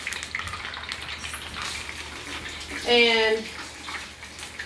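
Water running steadily from a tap as hands are washed in a kitchen during burger and onion ring frying, a continuous close hiss, with a voice briefly speaking near the middle.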